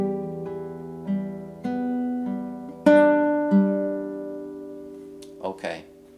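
An acoustic guitar plays one measure of a song, with a few plucked notes, a louder strummed melody note and soft open strings, close and clear.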